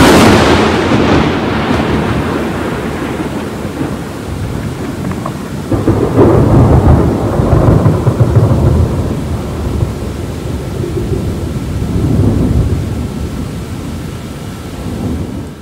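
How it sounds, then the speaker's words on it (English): A thunderstorm rolls in over a Gulf Coast beach at St. Pete Beach, Florida, with loud, sustained rumbling thunder swelling in several waves over steady rain and wind noise, with no talking. "you can see the Florida storm rolling in"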